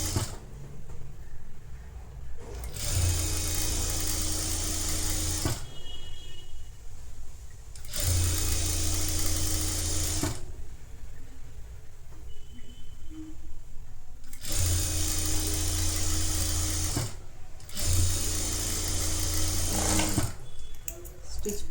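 Sewing machine running a straight stitch through folded fabric for a netted blouse, in four steady bursts of loud mechanical whirring separated by short pauses.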